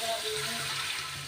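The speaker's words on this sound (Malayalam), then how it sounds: "നമുക്കിതിൽ 5 ഗ്ലാസ് വെള്ളം ഒഴിക്കണം" Water poured into a cooking pot for ghee rice, a short steady splashing rush that fills the whole moment, close and moderately loud.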